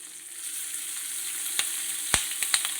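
Chopped green chillies with curry leaves fry in a pan for rice, giving a soft, steady sizzle with a few sharp crackles and pops near the end.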